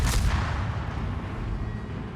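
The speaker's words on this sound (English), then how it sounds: "we're only throwing like 2 shells at a time here" In World of Warships, a Japanese destroyer's guns fire once with a sharp, heavy boom, and the blast then rumbles away into a low fading tail.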